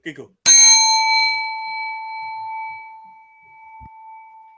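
A single gong-like metallic strike rings out loud and sharp, its bright tone decaying slowly over several seconds; brief talk comes just before it and a faint thump follows.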